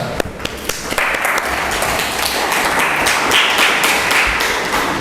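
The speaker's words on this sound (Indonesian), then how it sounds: "Kita berikan tepuk tangan." Applause in a classroom, steady dense clapping from a group that starts with a few scattered claps and swells after about a second, then carries on loud and even throughout.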